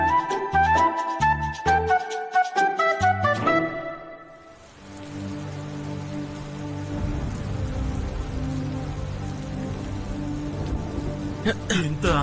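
A short musical jingle plays first, then steady rain takes over as a broad, even hiss. It continues close and moderately loud for the rest of the stretch, and a few bright taps come near the end.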